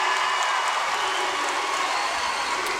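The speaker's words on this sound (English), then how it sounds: "Crowd's going nuts." At a Kentucky versus Georgia college gymnastics meet, a large arena crowd roars with sustained loud applause and cheering, a dense wash of clapping and shouts that holds steady throughout.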